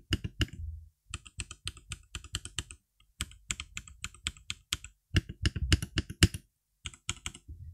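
Keys of a Redragon mechanical keyboard clack in quick, uneven bursts of typing, crisp and close, with brief pauses between runs of keystrokes and no talking.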